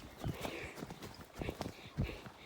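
A horse canters during a show warm-up, its hooves giving a steady near clip-clop rhythm at moderate volume.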